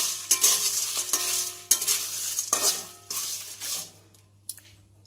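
Dry whole spices for homemade shahi garam masala being stirred in a pan, with bursts of scraping and rattling, then quieter toward the end, close and fairly loud.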